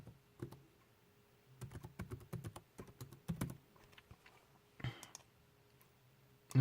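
A password being typed on a computer keyboard: quiet clusters of close, crisp keystrokes in irregular bursts, with a short pause and a louder rustle near the end.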